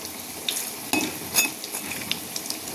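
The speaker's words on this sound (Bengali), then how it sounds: "স্লো আগুনে ভাজা ভাজা হোক।" Malabar spinach leaf fritters fry on a slow flame in oil in a wok, giving a steady soft sizzle broken by occasional clinks and scrapes of a spatula as they are turned.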